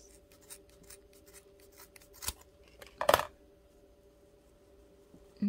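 Scissors make a small cut into craft material for a spring beehive and honey bee decoration, giving a couple of brief, close snips with a sharp crisp clip near the middle of an otherwise quiet stretch.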